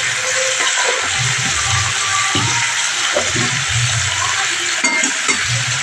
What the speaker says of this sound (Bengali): এবার আমি একটু ভালো করে নেড়ে নিচ্ছি। আলুটা আমি একটু লাল লাল করে ভালো করে ভেজে নেব।